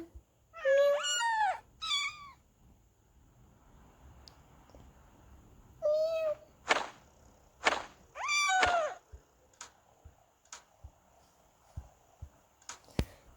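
Cats meow in several short, rising calls, some in quick pairs, fairly close, with clicks and light knocks from a pet carrier between them.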